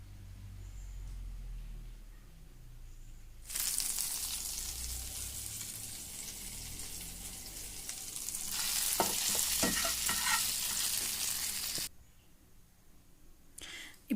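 Prawns for a spicy masala fry crackle and sizzle in a hot pan in one steady hiss that lasts several seconds, then stop abruptly. A few light stirring taps come through near the end.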